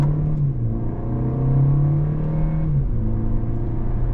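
Kia K4 GT-Line Turbo with an 8-speed transmission, accelerating steadily in manual mode with paddle-shifted gear changes; a continuous engine drone rises in pitch, and a shift is audible near the middle before the tone settles and climbs again.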